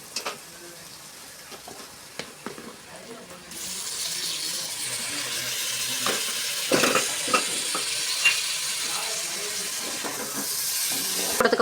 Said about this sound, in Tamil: போட்டு நல்லா வதக்கி விட்டுட்டு ஒரு 5 நிமிஷம் கழித்து நல்லா வதங்கினதுக்கப்புறம் பாருங்கள் தக்காளி நல்லா வதங்கிடுச்சு